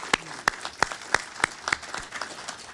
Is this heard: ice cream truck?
no